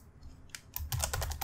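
Brief burst of typing on a computer keyboard while entering a layer name in Inkscape: a few quick, close key clicks after a short quiet pause, no speech.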